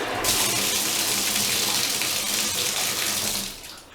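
Pressurised hot water gushing from a bath tap fed by a booster pump, a loud steady rushing flow that tails off near the end.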